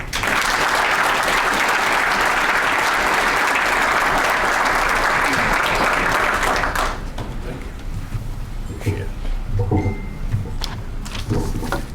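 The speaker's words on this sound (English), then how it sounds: "I would like everyone to welcome and give a big round of applause for Mr. Samir Khalil." An audience at a community forum in Bridgeview claps loudly for about seven seconds, a dense sustained applause that stops abruptly, leaving low room noise and scattered faint sounds.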